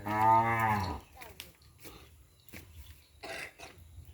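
A cow lets out one loud, drawn-out moo up close at a farm on Sapudi Island, followed by quieter shuffling, snorts and faint background noises.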